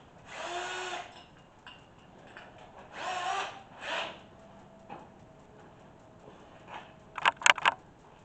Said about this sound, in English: We have to ream out a little bit more.